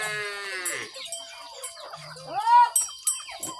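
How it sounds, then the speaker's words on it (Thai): Chickens clucking and squawking in a rural Lao village, close and lively, with bleating calls from goats or sheep mixed in and birds chirping in the background. "เป็ดไก่พี่น้องเลย"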